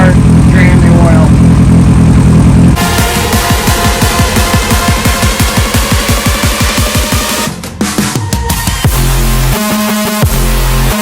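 A fully warmed-up Yamaha R1 motorcycle engine idles loudly and close, with a steady throbbing pulse that shifts in character partway through.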